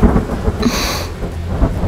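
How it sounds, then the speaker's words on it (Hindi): Heavy rain pouring down with a rolling rumble of thunder, a loud dense hiss of rainfall carrying a deep booming roll through the middle of the short stretch, with no voices. "बहुत बारिश हो रही है"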